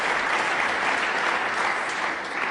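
A snooker crowd in a 2009 Ronnie O'Sullivan versus John Higgins match breaks into sustained, even applause after a fine shot, steady clapping from many hands filling the hall without pause.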